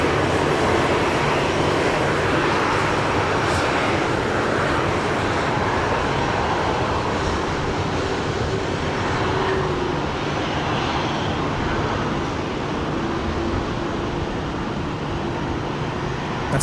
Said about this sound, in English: That's Qantas 58 just taxiing by Matt there, the 737-800 just arrived from Port Moresby